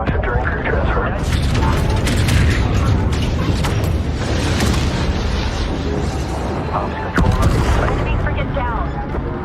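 Muffled explosions boom and rumble continuously through a Homeworld 3 space battle, thick and dense with scattered sharper bursts, under intermittent voices.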